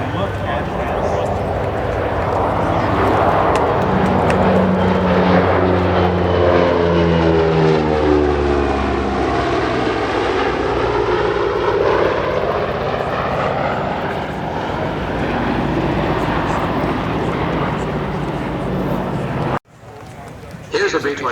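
Boeing B-29 Superfortress bomber with piston propeller engines passing overhead, a loud sustained drone that swells and shifts in pitch as it flies by, then cuts off abruptly near the end.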